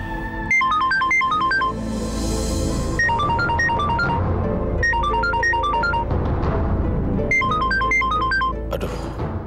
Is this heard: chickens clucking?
no